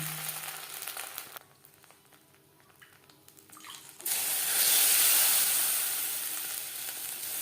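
Water is sprinkled over chitoi pitha batter in a hot pan: a quiet stretch gives way to a sudden loud hiss of steam that stays strong and close, then eases slightly.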